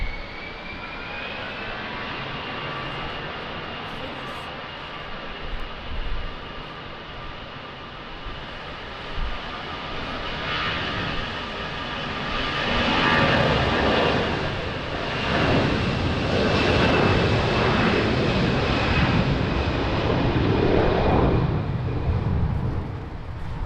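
Jet airliner taking off at Lisbon Airport in strong wind, a loud sustained engine roar with a rising whine that swells and rushes toward the end, heard alone with no talk.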